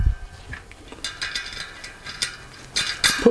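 A spanner turns the nut on a bearing press fitted in a road bike wheel to push a sealed cartridge bearing back in, giving close, sharp ratcheting clicks and metallic ticks in irregular bursts, growing louder toward the end, with no speech.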